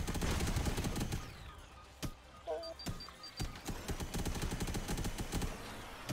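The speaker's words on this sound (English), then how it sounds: "there's a guy way over there shooting at me" Enemy gunfire in the robot-vehicle combat game Robocraft: rapid bursts of shots from a distant attacker, with sharp repeated cracks throughout and a dense barrage at the start.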